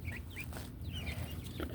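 Backyard hens cluck several times, near and moderately loud, in a short burst of soft repeated calls inside their coop sleeping area.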